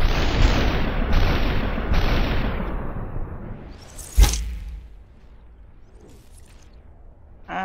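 Gunfire from enemies in SUPERHOT: dense bursts of shots and booms over the first four seconds, a single sharp loud crack near the middle, then quieter scattered sounds.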